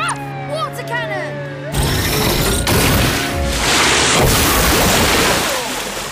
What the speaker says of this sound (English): Marshall, use your water cannon to move that mare